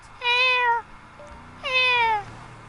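A voice imitates a cat, giving two drawn-out meows separated by a short pause, loud and close.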